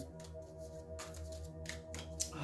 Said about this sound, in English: I started shuffling the cards